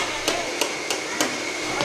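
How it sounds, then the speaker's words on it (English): Light hammer blows ring out in a church youth building, five or six evenly spaced sharp taps about a third of a second apart over a steady room hiss. "you hear a little hammering."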